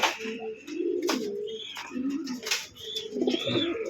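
Pigeons kept for sale coo close by in repeated soft, throaty, rolling phrases with short pauses between, mixed with a few faint chirps and light rustling, with no talking.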